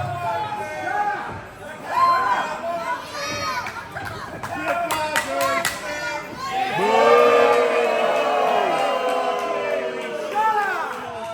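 Wrestling crowd at a CWA show cheering and shouting for Trip Rogers, a loud surging roar with higher excited voices that swells midway and holds steady.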